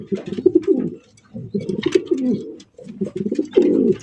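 Racing pigeons coo close by in three rolling bursts separated by short pauses, deep throaty warbling calls with a few faint chirps.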